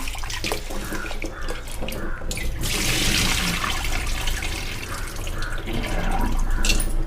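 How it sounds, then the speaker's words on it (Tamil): Tap water runs steadily into a vessel as rice is washed for mutton biryani, a close, continuous splashing rush with small clinks and swirls, no talking. "ரைஸ் வந்து நல்லா கழுவிட்டோம்"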